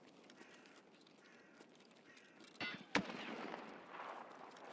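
Gunfire in Escape From Tarkov comes as two sharp cracks in quick succession, faint and distant over a quiet rustling background.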